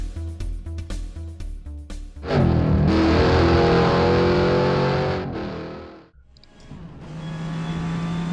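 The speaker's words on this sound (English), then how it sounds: "So I am here on the high banks of the Daytona 24-hour circuit, driving a Jaguar XJR-5." A Jaguar XJR-5 race car in a racing simulator game at the Daytona 24-hour circuit roars loudly, engine revving up through gears, a sustained high-pitched scream, a brief cut, then the engine building again, with no talking.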